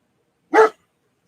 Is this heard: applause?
no